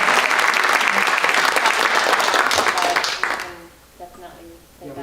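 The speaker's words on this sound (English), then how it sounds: "let's give him a round of applause" An audience breaks into loud, dense applause at a professional development event, lasting a few seconds before fading as voices come in.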